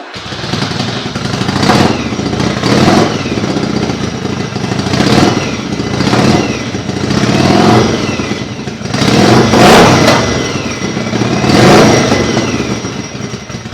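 A Yamaha XV750 motorcycle fitted with new exhaust baffles revs loudly and up close, its engine rising and falling in about five repeated throttle blips over a steady running rumble.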